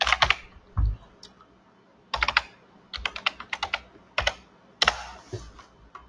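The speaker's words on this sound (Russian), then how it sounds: "Вводим новый пароль." Someone types a new password on a computer keyboard, heard as several bursts of quick, crisp key clicks with short pauses between them, close and alone with no talk.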